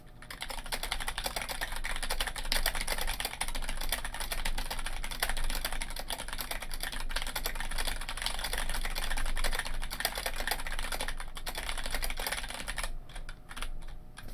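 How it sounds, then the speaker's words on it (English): Steady, fast clatter of computer keyboard keys being typed on continuously, close up, with no voices, stopping briefly near the end. "This is how this keyboard sounds."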